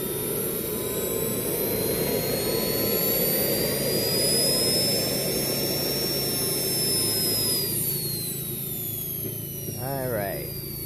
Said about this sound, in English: All right, you hear it's ramping up.